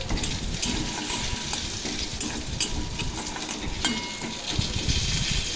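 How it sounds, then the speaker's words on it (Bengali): Ginger, garlic and spices sautéing in oil in a pan for a prawn curry, a steady close sizzle with scattered sharp crackles and occasional stirring scrapes throughout. "আদা রসুন এগুলো সব মশলাই আমি দিয়ে দিলাম দিয়ে ভালোভাবে একটু কষানোর পর আমি দিয়ে দেবো হলুদ গুঁড়ো আর কাশ্মীরি লঙ্কা গুঁড়ো জল দিয়ে হালকা এটা কষিয়ে নেবো"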